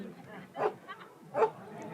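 A search dog barks its alert during a search team pairing ceremony, giving two short, moderately loud barks about a second apart, with quieter whines between them.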